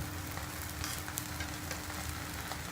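A stuffed gobi paratha sizzles on a hot tawa, a steady, close crackling fry with faint soft stirring or scraping and no voices.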